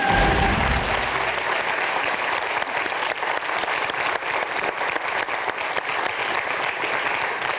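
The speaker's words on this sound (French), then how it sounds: "On applaudit" Studio audience of a French talk show bursts into loud, steady applause that holds evenly for several seconds after a brief low rumble at the start.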